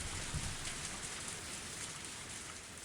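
Steady rain falling through woodland in Higurashi, a continuous even hiss of drops with no breaks, moderately faint and heard alone without any voices.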